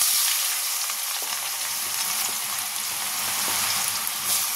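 Chopped ginger and garlic fry in hot oil in a kadai, giving a loud, continuous sizzle with occasional stirring scrapes, close by and with no talk over it.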